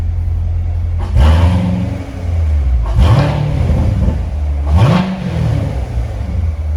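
A 2016 Corvette Stingray coupe idles with a deep, rumbling burble, then three sharp revs rise and fall at roughly two-second intervals, loud and close.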